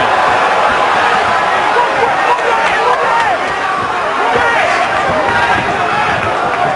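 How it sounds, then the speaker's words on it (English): A boxing crowd roars steadily through the Julio Cesar Gonzalez vs Julian Letterlough fight, a dense, loud wall of cheering and shouting that never lets up, with voices mixed in. "There's a lot of cheering going on."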